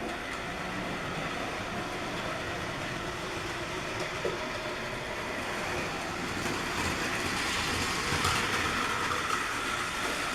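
The toy engine Oliver, with Toad behind, pulls a passenger train around a model railway layout, a faint continuous whirring and rolling rumble with light clicking over the track and no talking.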